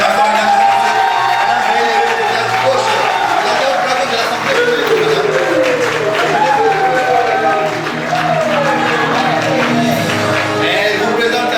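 Wedding guests at a civil marriage ceremony cheer, whoop and shout with scattered clapping, a loud, lively crowd din with voices rising and falling throughout.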